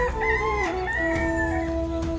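A rooster crows in a long, drawn-out call, with a few clucks around it, fairly close.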